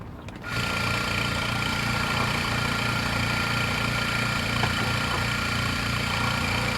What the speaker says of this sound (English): You get the pump going.